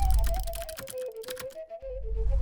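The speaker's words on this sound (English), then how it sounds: "on top of all of that, we add a keyboard typing sound effect" Rapid keyboard typing added as a sound effect for an After Effects animation, a quick run of close, crisp key clicks in an even rhythm under faint background music.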